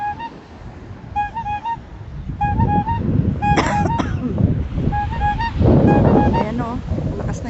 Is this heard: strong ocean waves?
yes